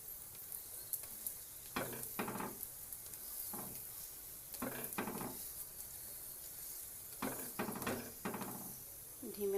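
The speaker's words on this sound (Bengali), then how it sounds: "ধিমে আঁচে ভাজছি বন্ধুরা" A paneer paratha fries in a pan over low heat, a soft steady sizzle broken by repeated short scraping strokes of a spatula, close and clear with faint speech nearby.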